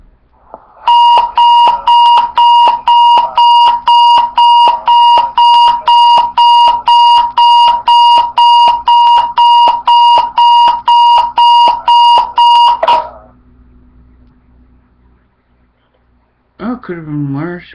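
An electronic alarm sounds loudly in a rapid, steady run of identical beeps for about twelve seconds, then stops abruptly; afterward a faint low hum remains and a voice briefly speaks near the end.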